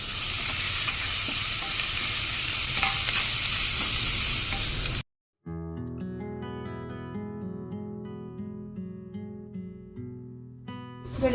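Onions fry and sizzle loudly in a pan while being stirred for a crab roast, a steady dense hiss, then a sudden cut to near silence followed by quiet tonal music.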